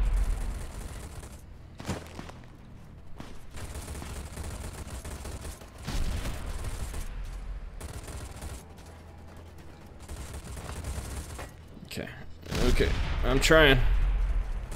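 Shotgun blasts and other gunfire in a Fallout: The Frontier mod firefight, coming as bursts of loud reports across the stretch with a denser volley near the end, while someone talks briefly over the combat.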